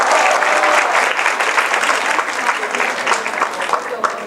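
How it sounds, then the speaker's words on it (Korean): Loud, dense audience applause at an engineering talk concert fills the whole stretch, a steady wash of many hands clapping with a faint voice mixed in. "박수 한번 쳐주세요."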